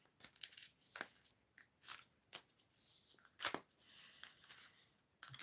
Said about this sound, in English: I'm going to pull one of the angelic lightwork cards